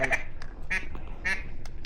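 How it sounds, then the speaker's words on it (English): Duck calls quacking during a public-land duck hunt in Arkansas: several loud, raspy quack bursts repeat at irregular intervals over a steady outdoor rumble. "Kill that duck."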